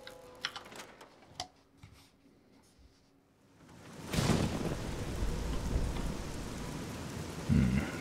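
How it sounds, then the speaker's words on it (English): Thunderstorm with rain in Fallout 3: after a few quiet seconds of faint clicks, a loud rumbling roll of thunder breaks in and heavy rain hisses steadily, with a sharp thunder crack near the end. "The storm is going away."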